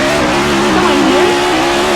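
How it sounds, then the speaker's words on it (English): Race car engines drone loudly and steadily in a NASCAR-style racing video game at Chicago, with rising tonal whines and a brief tire squeal as a car crashes and barrel-rolls, no voices. "the 19 of Martin did a barrel roll. Wrecked his entire car."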